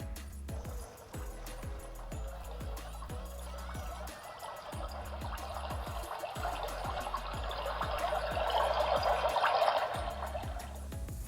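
Simulated river water from a HeimVision sunrise alarm clock's sleep-sound feature, a steady trickling, flowing wash that swells louder toward the end over a low rhythmic hum, with no talking.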